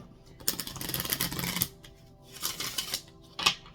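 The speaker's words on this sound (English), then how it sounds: "one hard shuffle there" Playing cards are riffled in quick fluttering bursts, a long shuffle followed by shorter ones, close and crisp with pauses between.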